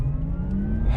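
A 2020 Porsche Taycan Turbo accelerating in Sport Plus mode produces a steady, loud electric-motor hum with a faint rising whine. The sound is continuous and close, as heard from inside the car, with no talking.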